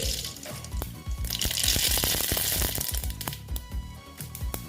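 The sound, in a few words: whole cumin and mustard seeds sizzling in hot oil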